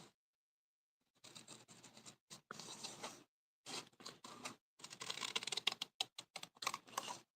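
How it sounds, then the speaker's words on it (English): Scissors snip through stamped paper during close fussy cutting, a run of quick, crisp, irregular cuts in bursts with short pauses between them, close and fairly quiet. "Sorry, I'm not on camera fussy cutting,"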